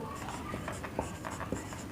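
Pen scratching steadily across paper while a maths solution is written out by hand, soft close strokes with a few sharper taps, under someone talking.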